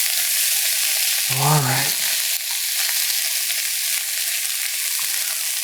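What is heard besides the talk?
stirring mushrooms, spinach and bacon frying in pan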